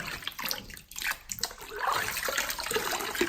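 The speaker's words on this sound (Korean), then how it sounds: "지금처럼 약간의 이런 물소리를 많이 내주시면 약간 청각적인 효과도 좀 있겠죠" Water poured and splashed over hair during a head spa wash, uneven sloshing and trickling close by that briefly dips before swelling again into a fuller running flow.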